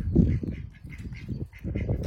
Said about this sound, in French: Le canard!